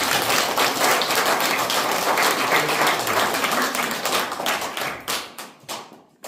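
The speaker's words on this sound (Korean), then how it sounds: "박수 한번 주세요." Crowd of supporters clapping at a political campaign event for a presidential candidacy, loud and dense applause that thins into scattered separate claps before dying away.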